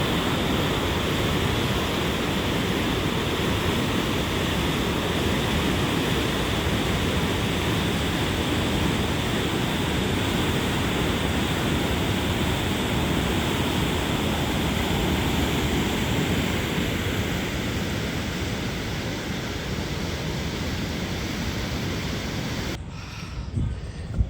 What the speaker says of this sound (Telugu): అంతా వాటర్ సౌండ్ అంటే ఎట్లా వస్తుందో.